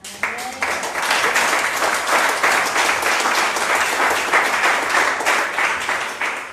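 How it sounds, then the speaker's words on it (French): Church congregation applause swells quickly and holds steady, a loud, dense wash of many clapping hands continuing for several seconds before tapering slightly. "Ils l'ont dit, on peut les applaudir."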